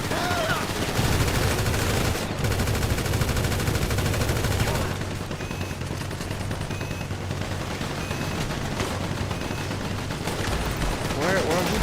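Sustained automatic gunfire rattles in a GTA V Online assault on Cayo Perico, dense rapid bursts that run continuously, loud and close, with a player's voice talking over it.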